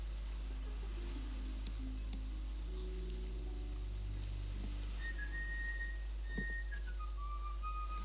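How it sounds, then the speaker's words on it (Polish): A cook whistling a tune in the Ghost Master haunting game, rising whistle notes heard faintly in the second half over a steady sizzling background hiss. "kucharz nam gwizdże w czasie, gdy też ćwiczy"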